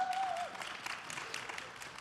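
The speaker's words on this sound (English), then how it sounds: "Give them a round of applause." Audience applause for an all-star panel at a political campaign discussion event, a dense, even wash of clapping lasting a couple of seconds at moderate, somewhat distant level.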